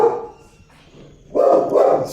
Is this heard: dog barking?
yes